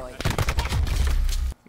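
Cluster grenade explosions in a Call of Duty hardpoint match, a rapid run of loud, close, overlapping blasts and bangs lasting over a second before cutting off abruptly.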